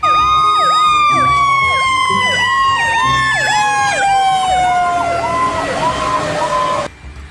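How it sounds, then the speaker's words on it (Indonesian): A loud fire truck siren wails in repeating rising-and-falling sweeps, close and continuous, then cuts off abruptly near the end. "Mobil pemadam kebakaran"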